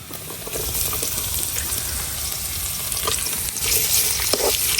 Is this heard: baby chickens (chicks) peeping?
no